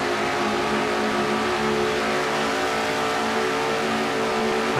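Race car in a stock car racing series event, its engine droning loud and steady with a sustained mid-pitched roar as it sweeps through turns three and four, with no break in the sound.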